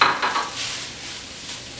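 Cooked rice is tossed and broken apart in a wok for a vegan chickpea curry, producing short scraping and clinking utensil sounds against the pan with a faint sizzle, close and alone.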